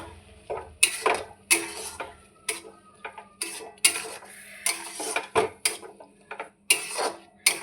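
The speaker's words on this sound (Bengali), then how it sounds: "এবার গ্যাসের ফ্লেমটা একটু আমি কমিয়ে দেবো, দিয়ে ভালো করে নাড়াচাড়া করব।" A utensil stirs suji in a pan over a lowered gas flame, giving repeated close metallic scrapes and clinks in an irregular rhythm over a faint steady background hum.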